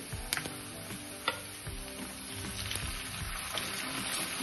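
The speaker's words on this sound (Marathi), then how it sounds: "आता मी बारीक चिरलेली ढोबळी मिरची टाकून घेते यामध्ये।" Finely chopped capsicum fries in hot oil for masala Maggi, a continuous soft sizzle with a few light clicks and stirring taps, close and quiet.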